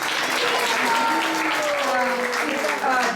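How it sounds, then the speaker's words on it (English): Festival audience applauding at a Hare Krishna Sunday gathering, a steady wash of clapping from a crowd with a voice carrying over it throughout. "We can do a big round of applause."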